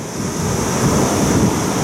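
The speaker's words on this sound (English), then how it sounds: "we are stuck on the beach because it's high tide and the waves are much too high" Ocean waves break on a beach at high tide, a continuous loud wash of surf mixed with wind buffeting the microphone.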